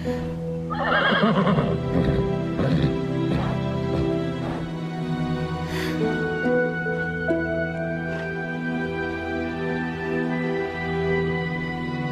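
A horse neighs loudly and close in a stable-like setting, a long whinny near the start followed by snorts and lower calls, with a steady musical bed underneath.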